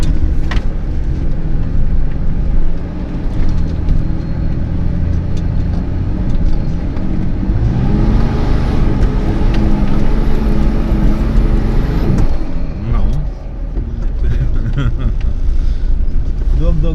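A 4x4 drives off-road while an instructor talks over the engine, which holds a steady drone and then revs up strongly midway before easing back, close and loud beneath the voices.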